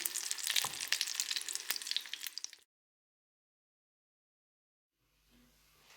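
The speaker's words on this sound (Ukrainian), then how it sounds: "поки трубочки мої смажаться" Loud, steady sizzling of sausage rolls frying in a pan for a couple of seconds, then silence, with a faint low hum returning near the end.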